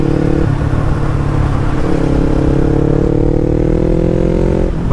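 Yamaha MT-03 motorcycle with a full aftermarket exhaust, its engine running steadily at a loud, close idle with a deep throbbing drone and a slight rise in pitch near the end.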